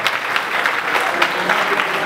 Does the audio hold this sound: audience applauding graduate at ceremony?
yes